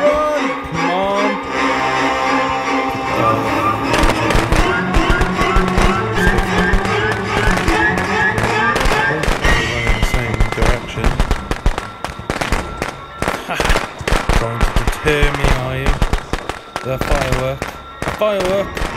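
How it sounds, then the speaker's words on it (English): Fireworks burst in the Friday the 13th video game, rapid irregular crackling pops and bangs scattered over a tonal music bed, loud and busy throughout, with a player talking over parts of it. "Firework!"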